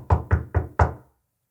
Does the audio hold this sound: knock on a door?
yes